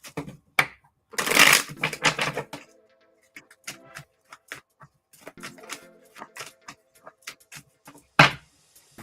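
Tarot cards riffled and shuffled by hand in a quiet room, a dense burst of papery flutter near the start and another near the end, with scattered soft card taps and slides between.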